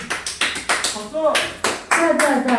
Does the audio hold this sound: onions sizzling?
no